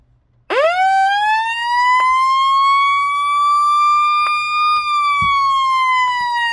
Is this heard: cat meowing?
no